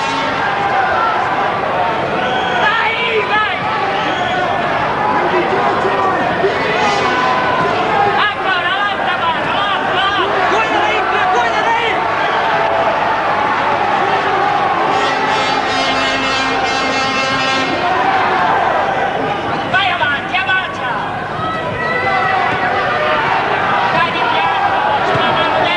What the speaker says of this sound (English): I mean, listen to the crowd. I mean, they're really enjoying this.